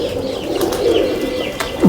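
Pigeons kept for evening flying competitions, a few soft coos rising over a steady outdoor murmur, with a clearer near call at the end.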